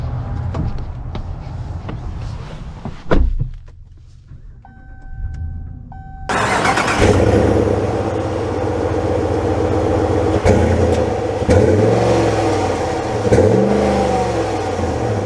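A 2024 Ram 1500 Limited Elite pickup cranks and its engine catches with a loud start, then settles into a steady idle that rises into revving as the truck pulls away, preceded by a quiet interior hum and a brief electric whir.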